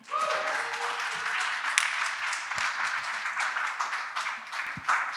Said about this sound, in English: give a big round of applause to my good friend